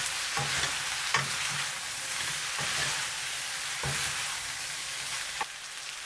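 Shrimp stir-fries with udon noodles in a hot pan, a constant hissing sizzle punctuated by about five sharp spatula knocks at a steady rhythm.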